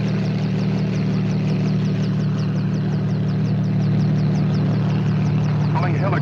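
A helicopter's engine and rotor drone steadily with a low hum and a faint rhythmic chop, while people talk over it.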